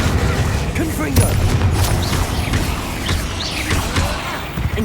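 Repeated Confringo fire spells burst in combat in Hogwarts Legacy, a string of booming blasts and crackling impacts over busy game-battle noise.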